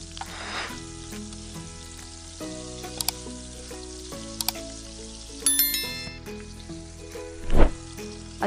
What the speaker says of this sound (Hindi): अब गैस की आंच को तेज करके चिकन को मसालों के साथ अच्छे से फ्राई कर लें